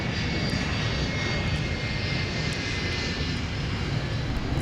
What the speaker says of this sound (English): the 757 touched down.